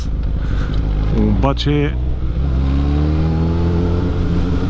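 Motorcycle engine while riding, a close, steady drone whose pitch climbs as it accelerates, with someone talking over it.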